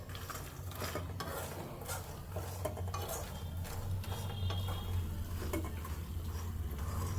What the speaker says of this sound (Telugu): సో ఇదండి నెయ్యిలో ఇలా వేయించుకుంటున్నాను.